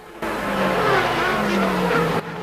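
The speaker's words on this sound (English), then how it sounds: "As the McLaren goes through of Ayrton Senna, he's taken Comas now, he's taken Fittipaldi" Formula 1 cars at the 1993 Canadian Grand Prix scream past, a sustained high engine whine rising and falling as they pass, loud and continuous, with commentary faintly underneath.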